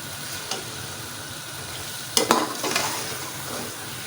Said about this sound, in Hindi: ठीक है, और इसको अच्छी तरह ये मिक्स कर देना है।